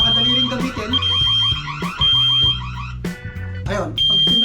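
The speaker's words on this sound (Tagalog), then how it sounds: "Napakagandang alarm device sa bahay." A Tuya WiFi smart smoke detector sounds its alarm during a home test, a steady high-pitched electronic tone pulsing in and out while a person talks loudly over it.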